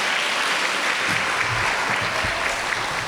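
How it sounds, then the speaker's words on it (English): A school audience applauds at an academy spotlight event, with loud, dense clapping sustained evenly throughout and a few cheers mixed in. "give yourself a nice round of applause"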